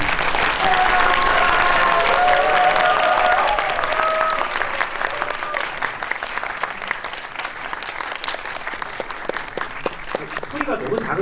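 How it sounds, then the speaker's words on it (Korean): A theatre audience at a Korean film screening Q&A for The Witch 2 applauds loudly as director Park Hoon-jung and actress Shin Sia walk in, with sustained dense clapping and cheers that gradually thin out, and some whistles early on. "큰 박수로 네, 맞이해 주시기 바랍니다"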